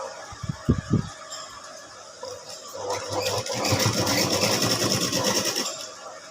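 A sewing machine stitches a halter neckline, with a few soft handling thumps at first, then a steady, close, continuous motor whir and needle chatter building over the last few seconds.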